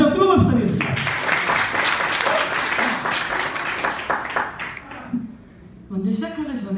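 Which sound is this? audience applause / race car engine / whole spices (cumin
audience applause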